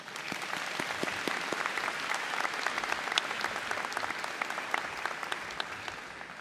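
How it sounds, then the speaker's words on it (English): Commencement audience at UofSC Aiken applauds an award recipient, a sustained, even roar of many clapping hands heard from a distance and lasting several seconds. "let's give her a round of applause for her accomplishments"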